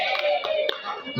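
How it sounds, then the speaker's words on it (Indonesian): Clapping from a group of teachers at a meeting fills the short clip, a dense steady patter of hands with a faint voice underneath. "Tepuk tangan dulu."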